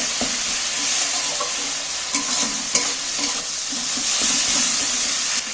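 Spices and tomato frying in oil in a pan for dal palong, with a loud, steady sizzle and hiss that keeps up the whole time, broken by a few soft stirring clinks.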